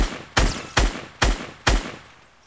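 Four sharp, loud gunshots in the Fortnite video game, evenly spaced about half a second apart, each with a quick decaying tail, heard alone with no talking.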